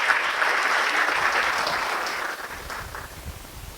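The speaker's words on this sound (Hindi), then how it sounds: "एक बार जोरदार तालियों से हम सारे कवियों का स्वागत करते हैं." Steady applause from an audience welcoming poets at a poetry recital, loud and sustained at first, then thinning out toward the end.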